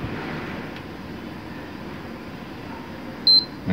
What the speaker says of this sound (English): One beep